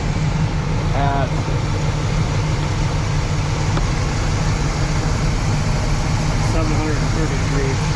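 A 1979 El Camino SS V8 idles at 730 RPM with base timing set 10 degrees advanced. The steady, loud, even engine rumble carries through the whole clip, and a faint voice comes through briefly.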